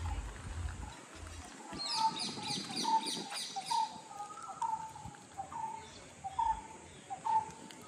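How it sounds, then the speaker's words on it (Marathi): Birds calling in a quiet wooded spot near Haridwar, with repeated short chirps and a rhythmic series of calls at moderate distance over soft background noise. "नुसते पक्ष्यांचा आवाज येतोय"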